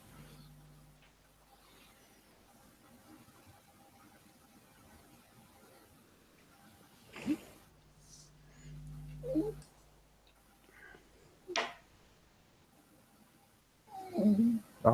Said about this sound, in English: he's whinging because he wants a pat.